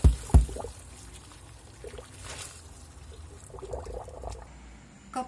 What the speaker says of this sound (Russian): Прошло 4 минуты, я сливаю. Сольем в дуршлаг.